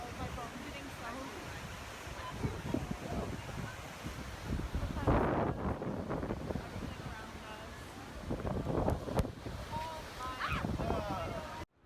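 Strong wind buffets the microphone beside a Yosemite waterfall, a loud continuous roar with gusty bursts, mixed with rushing spray and water noise.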